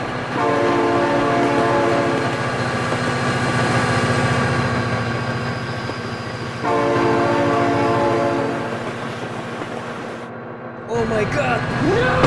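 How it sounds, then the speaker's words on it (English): Inside the BeamNG driving game, a train horn blares long, layered tones over a rumbling passing train. The horn sounds in two bursts before a sudden cutoff, loud and close, with excited voices in the mix. "Oh my god, train!"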